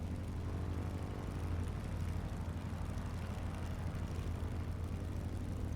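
A light propeller training aircraft's engine holds a steady, loud drone and hum before takeoff in strong gusty wind at Aldergrove, continuous with no speech.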